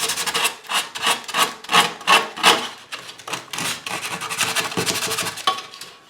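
Paint is being scratched off a tin toy train station part in rapid, rasping strokes, close and loud, in an uneven rhythm of short scraping bursts.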